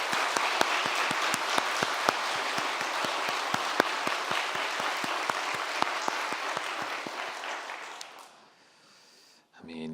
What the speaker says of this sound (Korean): 우리 다시 한번 큰 박수로 영광 돌려드릴까요?